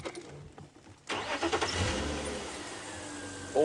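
A safari vehicle's engine turns over at around one second and then keeps running steadily, loud and close, on a game drive at sunset near a herd of elephants; quiet bush ambience comes first, with no talk.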